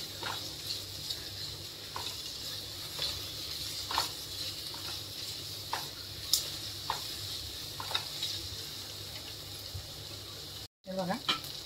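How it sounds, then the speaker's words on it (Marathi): Small onions fry in a pan until brown, giving a continuous soft sizzle broken by regular scraping stirs every second or so, close and fairly quiet. "आता याला चांगलं ब्राऊन होईल तो भाजून घेऊया आपण।"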